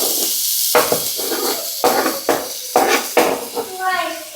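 Chopped onions saute in a hot pan in a home kitchen in Mexico, giving a loud, steady sizzle broken by short gaps and clinks of stirring, with a voice briefly at the end.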